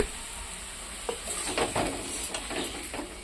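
Boiled Malabar spinach, salted, fries in a pan with a steady hiss, and a few soft stirring scrapes and splutters rise midway before it settles back to an even sizzle.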